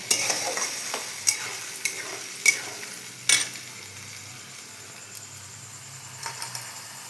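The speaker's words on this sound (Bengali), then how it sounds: "এর মধ্যে আমি সম্পূর্ণ মশলাটা দিয়ে দেবো দিয়ে এটাকে আমি অনেকক্ষণ ধরে কষিয়ে নেব ততক্ষণ না তেল ছাড়বে" Spice paste sautés in oil in a pan for chicken ghugni, a low sizzle under several sharp spoon-scraping stirs early on, then quieter frying with a few light clinks.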